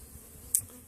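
Agitated honey bees buzz at a hive with a front entrance feeder, a faint low hum with one brief sharper buzz passing close.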